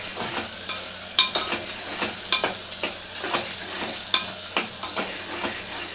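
Ingredients for a Telangana village-style natukodi (country chicken) curry fry in a pan with a continuous sizzle. Sharp, repeated spatula scrapes and clacks strike at an uneven rhythm, fairly close and loud, with no talking.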